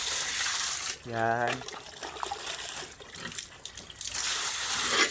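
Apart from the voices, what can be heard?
water being poured for pigs after feeding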